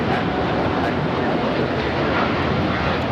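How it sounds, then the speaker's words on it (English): A United Airlines Boeing 787-9 Dreamliner taking off at Los Angeles LAX bound for Hong Kong, a steady, dense engine roar filling the air at strong volume throughout, with voices faintly mixed in. "This is United Airlines 801 taking off to Hong Kong on the 787-9 Dreamliner."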